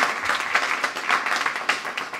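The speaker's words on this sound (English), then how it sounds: "a clap before I start" Audience clapping at the Oxford Reading Spree 2017 talk, a moderate burst of hand claps with uneven peaks, fairly close and fading slightly, with no voices.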